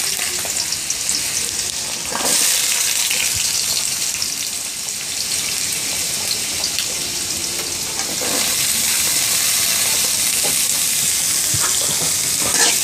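Chopped carrots frying in hot oil in a pan, a loud, steady hiss and crackle that runs continuously, with occasional stirring scrapes and a brief surge in sizzle partway through.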